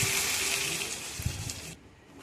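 Water gushes steadily into a cooking pan of aloo paneer biryani, a loud rushing flow that cuts off abruptly near the end.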